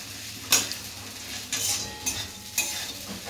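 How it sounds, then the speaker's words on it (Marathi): Sabudana khichdi is stirred in a pan on the stove, with four distinct scraping, clinking spoon strokes against the metal over a soft background sizzle, heard close up. "थोडं मिक्स करून घ्यायचं."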